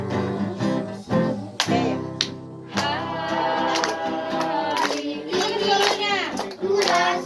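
Children at a Sunday school worship service clap along to lively sung music with a strong beat, claps mixing with singing voices and instruments throughout.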